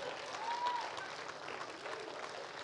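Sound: audience hand clap

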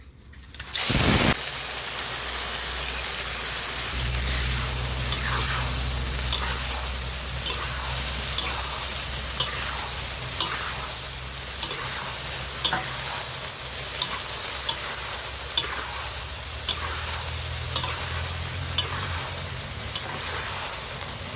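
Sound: frying grasshoppers

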